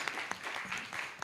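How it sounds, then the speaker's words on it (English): An audience at a live-streamed event gives a short burst of dense, steady applause, many hands clapping together at moderate volume. "Please, can we give them a round of applause once again?"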